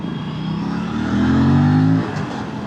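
An Aprilia RS 457 motorcycle engine hums on a city ride, then revs up briefly and rises in pitch before easing back to a steady drone, heard close and fairly loud.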